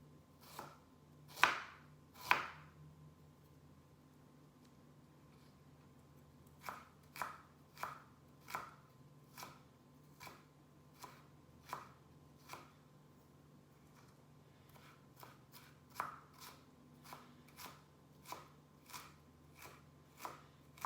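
A knife mincing ginger on a cutting board while preparing pork and shrimp wontons: two sharp chops, a short pause, then a long run of crisp, quiet, fairly regular knocks.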